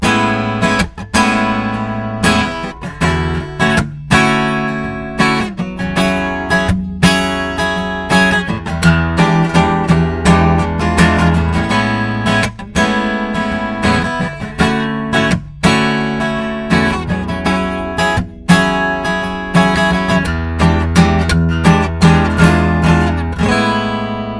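Strummed guitar cycles through a four-chord progression in A, steady rhythmic strokes with sharp accents, loud and close, no talking.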